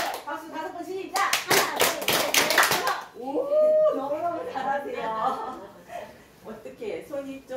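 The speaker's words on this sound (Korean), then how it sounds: "박수 다섯 번 시작!" An audience at a Jeju Seongan Church group gathering claps together in a short, tight burst of about a handful of sharp claps, followed by talk and light laughter.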